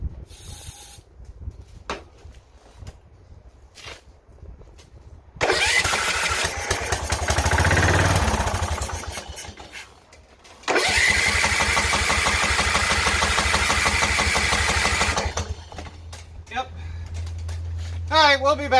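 Engine on a DLS3500 tractor with a suspected dirty carburetor, cranked at full choke, churning in long rhythmic bursts with pauses in between, loud and close, mechanical clatter and a low steady tone, briefly under talk.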